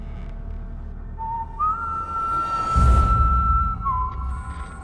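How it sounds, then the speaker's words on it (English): Inside a haunted museum at night, a long, steady whistle holds one pitch for several seconds with a slight rise, faint and alone over a low rumble. "It sounds like a person whistling."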